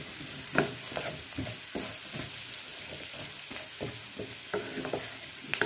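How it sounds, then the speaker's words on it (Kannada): Sweet potato pieces coated in masala are stirred in a pan over low flame, with repeated scraping strokes of a spoon against the pan over a steady soft sizzle of frying. "ಗೆಣಸಿಗೆ ಮಸಾಲೆ ಎಲ್ಲ ಚೆನ್ನಾಗಿ ಹಿಡಿಯೋ ಹಂಗೆ ಫುಲ್ಲು ಚೆನ್ನಾಗಿ ತಿರುಗಿಸ್ಕೊಡಿ"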